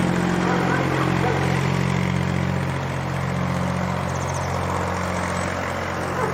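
A passing tractor drones loudly and steadily nearby in an autumn vegetable garden, a constant low mechanical rumble that holds for several seconds.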